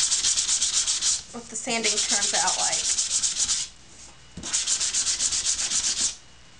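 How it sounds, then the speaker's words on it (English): Hand sanding of a crumpled paper bag: rhythmic raspy back-and-forth strokes in several bursts, close and loud, with a brief spoken remark between passes. "you can sand this as much or as little as you want"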